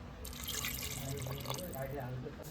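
Water is poured into a spice mixing bowl in a kitchen where fish is being cooked, making a soft, continuous splashing trickle for a couple of seconds. Someone talks over it.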